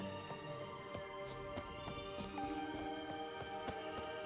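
Roach, the horse in The Witcher 3, gallops with a quick, steady clip-clop of hooves over game ambience and a faint musical tone.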